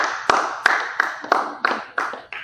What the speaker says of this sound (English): A round of applause to Links.